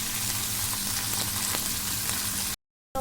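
Spices and chilli paste fry steadily in hot oil for a pomfret fish curry, a continuous close sizzle that runs unbroken before cutting out abruptly near the end.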